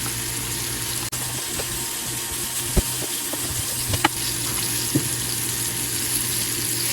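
Rabbit pieces browning in a pan give off a steady, close hiss with a few soft clicks and taps scattered through it; nobody speaks.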